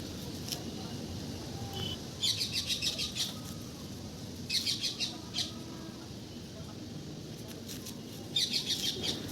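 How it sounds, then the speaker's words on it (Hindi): Birds chirp in the morning in three short, bright bursts over a steady outdoor hiss, with quieter gaps between the bursts. "चिड़ियाओं के चहचहाने की आवाज़ बहुत ही सुंदर आ रही थी।"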